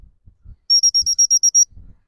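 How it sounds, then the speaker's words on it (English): A person whistles to call a dog outdoors, giving about seven short, sharp, high-pitched blasts in quick succession. Faint low thumps come just before and after. "Let me whistle her."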